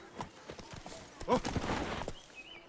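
Hooves of Geralt's horse Roach clatter in quick galloping clip-clops through The Witcher 3 game world, fairly close and busy, with a brief snort or whinny mixed in.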